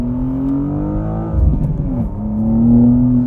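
A 2025 BMW M2 with a six-speed manual pulls along the road with a loud, close engine drone that rises in pitch and then drops with a brief rough burble at a shift before climbing again, with no talking.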